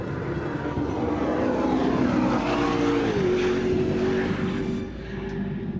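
McLaren P1 hypercar engine sweeping past loud and close, a dense roaring drone with a rising-then-falling pitch shift as it passes, easing slightly at the end.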